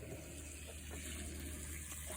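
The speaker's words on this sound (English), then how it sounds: "put it on drain," Washing machine draining water in an off-grid laundry setup, a steady low gushing flow with a constant hum, heard alone and fairly quiet.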